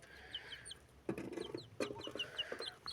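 Young rooster and hens clucking on a backyard farm, a few short bursts of clucks and soft calls close by, with brief chirps of small birds around them.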